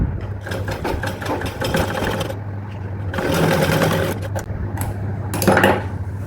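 A sewing machine stitching folded chudithar fabric, running in fast steady bursts with brief pauses between them, close and loud, with no talking.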